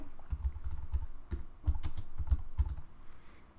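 Keys clatter on a computer keyboard in short irregular bursts of close taps, someone typing text into a small box while editing an image for a Facebook tab, with no voices.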